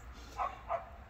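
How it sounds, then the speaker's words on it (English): A neighbor's dog barks twice in quick succession, somewhat distant and fairly faint over low background hum. "Y'all hear that dog barking?"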